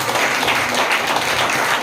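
A church congregation clapping loudly together during a sermon, a dense, steady wash of applause filling the whole stretch with no clear pauses.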